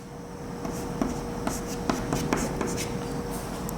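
Chalk or marker writing on a board during a lecture, a run of quick scratchy strokes and taps over a quiet room hum, fairly faint and close.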